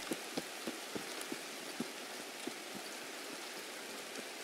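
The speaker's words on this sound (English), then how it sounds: "Oh, who turned on the rain?" Steady rain pours in Escape from Tarkov, a constant even hiss with scattered soft drips and taps landing on nearby surfaces, with no voices.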